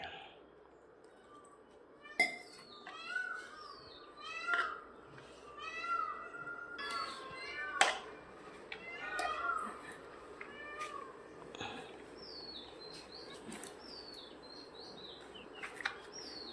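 A peacock in trees behind a house gives repeated plaintive, meow-like calls at moderate distance, mixed with other bird chirps and a few sharp kitchen clinks in a quiet indoor setting.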